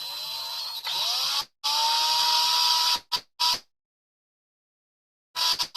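A small hobby drill fitted with a 0.75 mm bit whirs in high-pitched bursts, running about two seconds at a time with short stops, then falling silent before starting again, close up.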